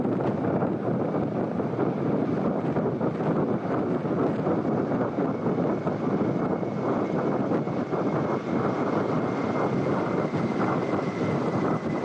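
Kamov helicopters flying past at a presidential naval fleet review off Visakhapatnam, a steady, continuous rotor and engine roar holding at even loudness throughout, mixed with wind noise and no speech.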